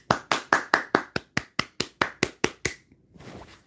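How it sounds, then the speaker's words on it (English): One person claps alone at close range, about a dozen sharp, evenly spaced claps in a steady rhythm that then stop, leaving a soft, low background hiss. "I should put down the phone and clap for y'all."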